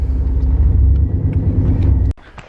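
A tow truck's engine rumbles in a low, steady idle close by, then cuts off abruptly near the end, leaving near silence.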